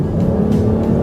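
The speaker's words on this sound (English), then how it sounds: "My favorite part of the new 200 by far is the Pentastar engine." A 2012 Chrysler 200 with the 283-horsepower Pentastar engine accelerates, its engine droning in a loud, steady, close-up hum for about a second.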